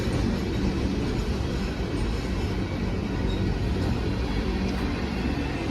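A long freight train of tanker cars rolls past on the track, a steady, loud, continuous rumble and rattle with no talking.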